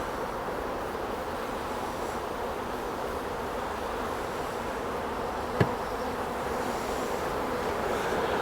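Honeybees swarm around a hive while two nucleus colonies are united, making a dense, steady, close buzzing drone that holds at even loudness, with one brief click partway through.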